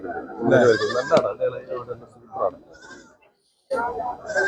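Goats bleat at the busy Chattiparamba goat market, with short, close bleats mixed into steady bargaining talk between people.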